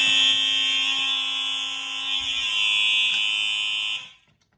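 A Simplex fire alarm sounding during a system test: a loud, steady electronic buzzing tone held for about four seconds, then cutting off abruptly into quiet.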